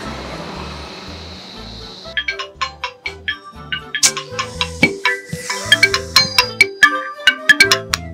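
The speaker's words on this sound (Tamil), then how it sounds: "எதுக்கு சும்மா சும்மா போன் அடிச்சுக்கிட்டு இருக்க?" A mobile phone ringtone plays loudly and close after a brief hiss, a bright melodic tune of repeated notes that continues to the end without any talk over it.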